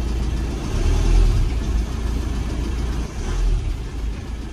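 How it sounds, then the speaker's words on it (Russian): Idling diesel engine of a Renault Trafic II van with a faulty fuel injector, a steady low rumble with a faint irregular ticking cycling through it, heard up close and alone. "Это как форсуночка где-то цокотит."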